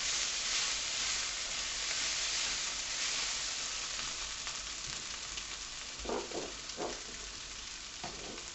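Chopped vegetables sweating down in a pot for a four-bean chilli, giving a continuous close sizzling hiss with a few soft stirring scrapes near the end, and no voices.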